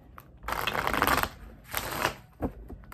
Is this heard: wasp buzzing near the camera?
no